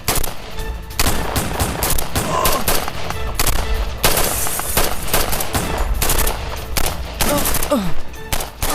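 Firefight in a TV drama series: sustained bursts of machine-gun and rifle fire crackle throughout, loud and dense, with occasional shouted voices mixed in.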